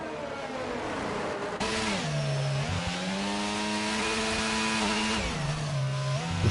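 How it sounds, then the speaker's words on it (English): Race car engine in a racing simulator at the Singapore circuit, revving loud and close as it climbs through the gears, pitch rising steadily with brief dips at each upshift. "revving out the gears that much?"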